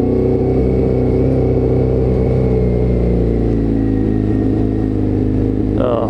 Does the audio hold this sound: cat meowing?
no